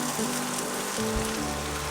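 Chopped onion, green chili and curry leaves sauté in a hot pan, giving a steady close sizzle with faint crackles throughout.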